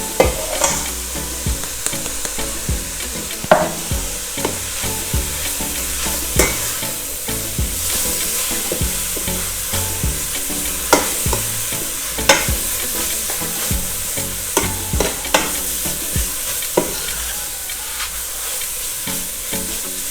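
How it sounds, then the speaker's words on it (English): Spices fry for South African chakalaka relish, a loud continuous sizzle broken by repeated scraping stirs and crackles close up. "Now we're just going to fry this for about another 5 to 7 minutes"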